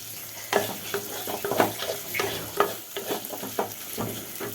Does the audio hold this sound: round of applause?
no